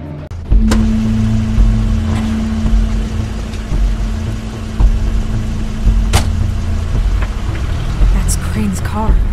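A car engine hums steadily in The Wolf Among Us game, Crane's car running with a low constant drone and a faint sustained tone, with a few brief clicks and thumps and talk over it.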